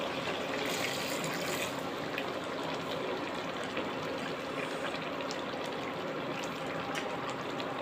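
Broth pours steadily into a pan of sautéed mixed vegetables, making a continuous close gushing and sizzling wash that stays even and fairly loud throughout.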